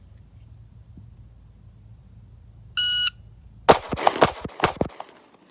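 A Sig Sauer P365 X Macro pistol fires a quick string of about five sharp, close shots in rapid succession, preceded by a brief electronic shot-timer beep, with quiet background before.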